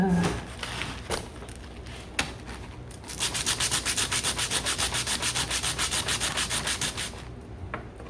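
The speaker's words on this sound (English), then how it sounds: "sandpaper sanding," Sandpaper rubs on a custom harp slider. A few scattered scrapes come first, then a steady run of close, rhythmic back-and-forth sanding strokes.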